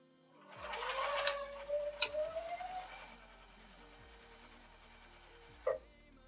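A sewing machine stitches quilt block pairs together for a framed pinwheel quilt, with a few seconds of steady whirring near the start that fades to a low hum, then a single sharp click.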